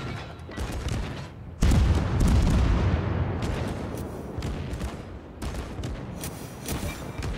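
Mogami cruiser firing HE shells in World of Warships, heard as a dense, continuous barrage of booming gunfire and explosions that jumps loud partway in and rolls on with repeated blasts, no talking.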